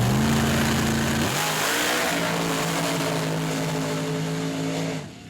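Purple Monkey mud truck on a mud pit run at an outlaw mud race in St. Joe, Texas: a loud, steady engine roar with a sustained drone that shifts up in pitch partway through and holds, then cuts off near the end.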